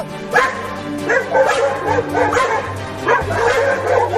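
Two cartoon dogs bark repeatedly in a quick, close, loud back-and-forth, with sharp yips and whimpering whines mixed between the barks.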